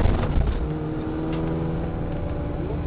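A Peugeot 206 Group N rally car pulls and accelerates steadily with a low, throaty drone. The revs build gradually and there is no talk.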